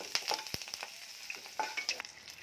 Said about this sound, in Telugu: ఇదిగో కరివేపాకు, పచ్చిమిరకాయలు నూనె వేసుకోవాలి